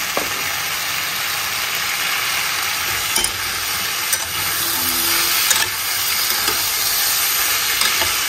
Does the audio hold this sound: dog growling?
no